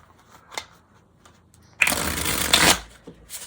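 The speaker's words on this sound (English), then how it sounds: "So sorry, I'm shuffling off screen." A deck of tarot cards is shuffled close by in one continuous riffling burst of about a second after a few faint taps and rustles.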